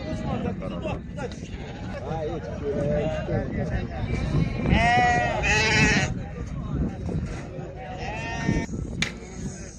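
Sheep bleat repeatedly amid a noisy crowd, with people talking throughout and animal calls rising loud in the middle and near the end.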